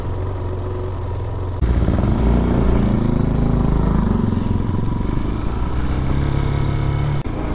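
A 2022 Peacesports Brozz Recon 250 motorcycle on a long ride, its engine steady and close after a quieter opening, holding a continuous drone with slight pitch shifts and no talk.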